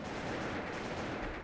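Rapid gunfire crackles in the online shooter Wolf Team, a dense, continuous burst of automatic shots at moderate loudness with no voices over it.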